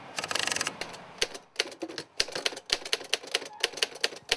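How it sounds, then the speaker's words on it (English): A typewriter being worked on at a New York City typewriter repair shop, its keys striking in a fast burst then in irregular clacks and mechanical clicks, close and clear with no voices. "Paul Schweitzer fixes typewriters."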